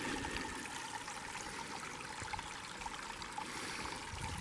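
Close, steady babble and trickle of a small forest stream in Bankhead National Forest, Alabama, flowing over stones, unbroken throughout with no voices.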